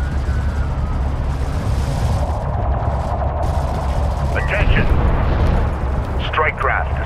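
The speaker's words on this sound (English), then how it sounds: "Strike craft destroyed." Heavy explosions boom through a desert battle in the strategy game Homeworld: Deserts of Kharak, rumbling continuously as strike craft are destroyed, with rising blasts near the middle and end.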